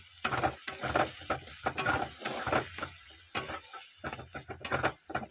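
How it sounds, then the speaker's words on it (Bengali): Sliced onions frying in oil in a pan for a chicken curry, heard as a faint steady sizzle beneath repeated scraping and clattering strokes of a spatula stirring, in irregular bursts. "পেঁয়াজটা একটু হালকা লাল করে ভেজে নিয়ে তারপরে বাদ বাকি জিনিসগুলো দেবো"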